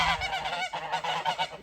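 A flock of geese honks continuously outdoors near water, loud overlapping nasal calls crowding one another in a busy, unbroken chorus with no talk.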